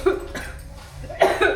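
Someone coughs in a few rough bursts at a birthday party, moderately loud and close, as milk boils for a dessert.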